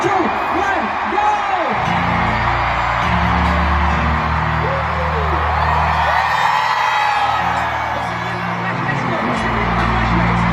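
A concert crowd at a world tour kickoff show shouts, whoops and cheers nonstop, loud and close. Amplified music and a voice on the mic carry through underneath the crowd.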